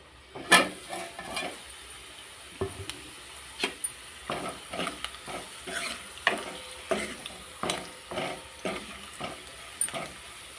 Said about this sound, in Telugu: ఒక రెండు మూడు నిమిషాల పాటు దీన్ని ఫ్రై కావాలి